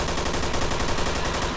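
Rapid gunfire in the video game Garry's Mod, a dense, loud burst of rattling shots that stays continuous for the whole short stretch.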